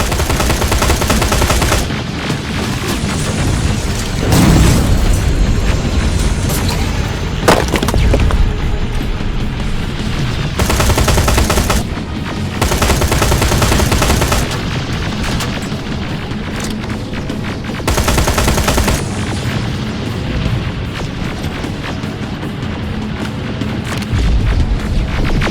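Constant heavy gunfire and booming explosions fill a battle in the video game Terminator Resistance, with rapid automatic bursts and blasts continuing loudly over dense combat noise with brief pauses.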